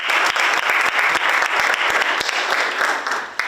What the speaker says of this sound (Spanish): Dale palmas por los sabios de esta noche.